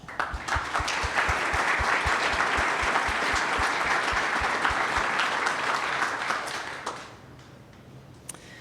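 An audience applauds its summer mentors at a demo day event, with steady, full clapping that holds for about seven seconds and then fades out into quiet room tone.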